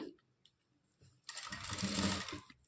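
A sewing machine stitches folded piping along a blouse neck, a soft whirring burst of a little over a second that follows a few quiet handling sounds.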